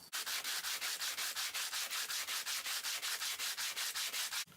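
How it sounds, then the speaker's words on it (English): Rapid, evenly rhythmic strokes of 80 grit sandpaper scrub across bandsaw-cut wood from a seasoned log, about two dozen rasping passes close up with no voices. "So now I'm just going to clean up those bandsaw cuts with some 80 grit sandpaper."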